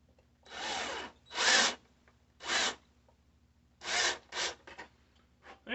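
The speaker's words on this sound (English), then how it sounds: "The nice thing about drilling into plastic is you can kind of cheat the bit until it goes where you want it exactly." A power drill bores into a plastic wheel in short bursts: roughly six whirring pulses of varying length separated by pauses, close and moderately loud.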